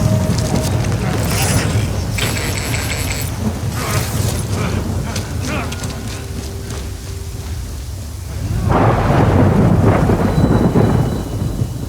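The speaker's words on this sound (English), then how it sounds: "Good thing it was raining." Thunder rumbles and steady rain in the video game Death Stranding, loud and close, with a heavy rolling boom swelling again toward the end over a constant downpour.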